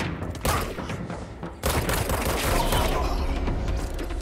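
Grenades explode in the video game Control, releasing energy clouds in a dense, loud barrage of booms and rumbling blasts that barely lets up, with a brief dip before another heavy burst.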